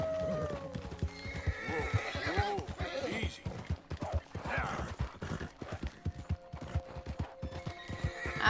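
Red Dead Redemption 2 horse hooves clip-clop steadily while the horse neighs and whinnies loudly, layered with game music and some background voices.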